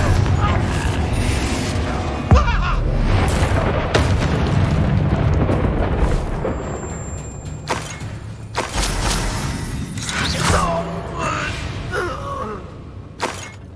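Confringo fire spells burst repeatedly in the Hogwarts Legacy video game, loud booming explosions and crackling impacts in dense battle chaos, with character voices shouting over the action.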